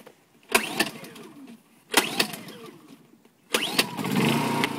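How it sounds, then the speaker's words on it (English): Honda EU2000i portable generator being started with a pull cord: three pulls a second or so apart, each a short sputter, with the engine catching and running steadily on the last. "The first generator is on."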